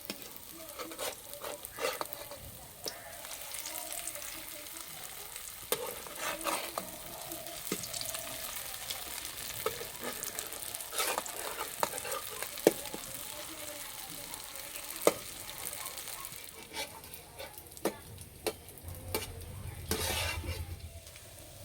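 Semolina and sour yogurt sweets frying over low heat in oil in a pan after being turned, a continuous soft sizzle broken by clinks and scrapes of a utensil.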